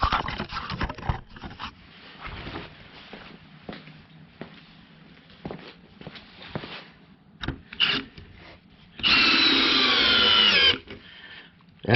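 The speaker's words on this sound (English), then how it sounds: "we're just going to be shooting it into this pallet, and we're going to see how it does" A Dewalt DCF601 screwdriver drives a 2.5 inch number 10 wood screw into a pallet, with scattered handling clatter first, then a sustained close whirring drive of about two seconds that stops abruptly.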